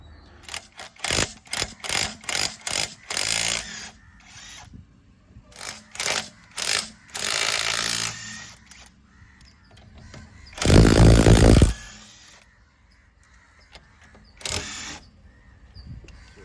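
An iBELL 20V cordless impact wrench loosens and removes bolts in quick repeated bursts of loud, rattling hammering, separated by short pauses, with one longer, heavier burst near the end and no talking.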